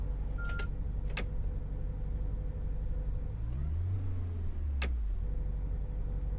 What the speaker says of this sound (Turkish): Motorumuzu başlatalım.